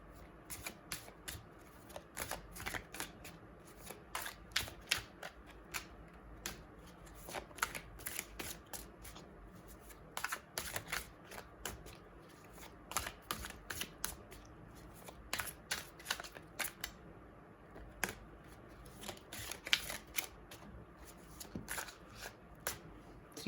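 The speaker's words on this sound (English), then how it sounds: "let me pick up some more cards if I get any" Tarot cards are shuffled again and again in a close, soft rhythm of quick riffling bursts with short gaps, steady over a long stretch, with no talking.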